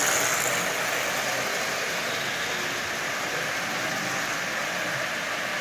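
A Lionel 244 toy train locomotive runs and smokes, giving a steady, continuous motor whir and rolling hum at an even level with no pauses.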